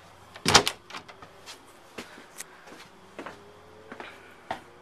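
A backstage door in a theatre being prepared for a show opens and closes with a sharp clunk near the start, followed by softer latch clicks and handling knocks, close and otherwise quiet.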